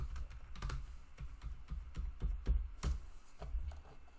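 A username and password are typed on a computer keyboard: quick, irregular key clicks and thumps, close and fairly quiet, with a couple of heavier strokes and no talking.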